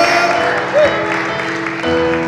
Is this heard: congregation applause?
yes